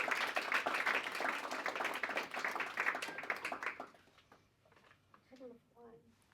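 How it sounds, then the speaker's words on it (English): A crowd at a family business association event hosted by a plumbing company gives a lively round of applause that tapers off after a few seconds, followed by quiet murmured talk. "Round of applause."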